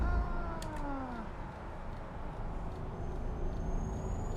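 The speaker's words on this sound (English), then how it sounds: "that high-pitched squealing are the turbos" A car's turbochargers in American Truck Simulator give off a thin, high-pitched squeal that rises and falls over steady engine drone, with a faint whistle continuing throughout.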